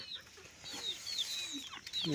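Chickens cluck and chirp intermittently over a quiet background, a few soft calls rising and falling, with a louder squawk near the end.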